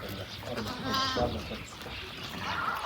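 Sheep and lambs let out a brief wavering bleat near the middle, fairly faint among farmyard noise, while a person talks nearby.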